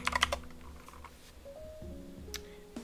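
A few quick keystrokes on a computer keyboard at the start as a password is typed, followed by faint clicks and quiet background tones.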